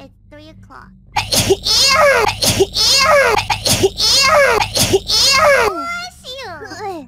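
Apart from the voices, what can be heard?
sneeze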